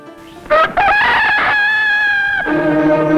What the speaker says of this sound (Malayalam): ഭൂഗോളത്തിന് മുകളിൽ നിന്ന് ഈ പൂവൻകോഴി നീട്ടിക്കുവിയത്